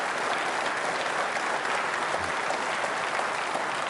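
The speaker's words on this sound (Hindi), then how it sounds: "तालियां इस संकल्प के लिए बजाइए जोरों से आप" Steady applause from a large audience at a quiz program for trainee state civil service officers, dense clapping that holds at an even level throughout with no talk.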